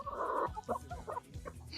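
Backyard chickens cluck softly and steadily at close range in a series of short clucks, with no voices.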